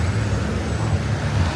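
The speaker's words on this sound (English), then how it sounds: "Traffic's terrible." Road traffic on a rainy day near Heaton Park, a steady low rumble of passing cars and buses with engine drone and hiss, moderately loud and continuous, no talking.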